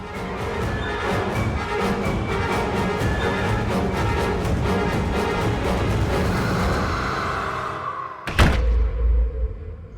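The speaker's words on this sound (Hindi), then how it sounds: "दरवाजा बंद कर देना" A single heavy door thud lands near the end, cutting off a busy stretch of background sound, followed by a brief low rumble.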